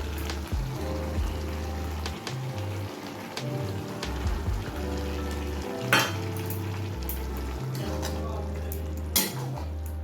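Chicken keema with whisked sour yogurt frying in a pan for ghugni, a steady sizzle with spatula scrapes and occasional metallic knocks, under a low droning background.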